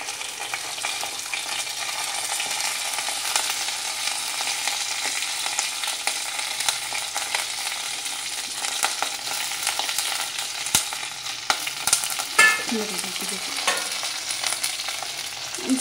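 Green chilies and onion fry in a pan for okra pulusu, giving a long continuous hiss and crackle with scattered utensil taps and scrapes near the end and no speech.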